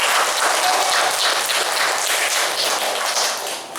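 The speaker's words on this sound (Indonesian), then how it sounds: "Tepuk tangan untuk beliau berdua." An audience at a gathering claps for two honoured guests, the dense patter steady at first and easing slightly toward the end, with no voices over it.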